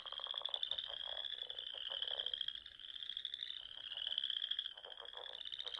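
Frogs call in a quiet chorus, repeated high pulsing trills and croaks that overlap in irregular bursts against a still background.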